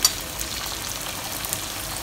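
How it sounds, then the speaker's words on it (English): Chicken pieces fry in oil at the first stage of a double fry, giving a close, steady hiss and crackle with no voices over it. "So now we'll put in the chicken pieces. We're going to double fry this"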